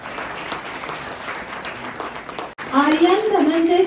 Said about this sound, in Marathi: टाळ्या जर जोरात वाजल्या तर त्याही मुलांना आनंद मिळतो.